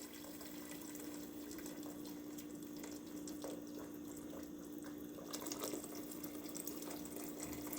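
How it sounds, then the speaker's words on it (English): Boiling water runs continuously into a pot for fish soup with a steady gushing hiss, swelling louder near the end, close by and without talk. "I'm going to add the boiling water in here."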